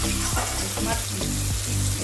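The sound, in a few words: tomatoes frying in pan for suji upma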